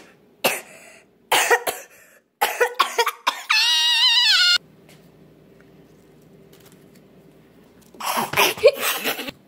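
A person coughs several times in quick, harsh bursts, close and loud, with a brief throat-clearing rasp in the middle, then a quiet pause before more coughing.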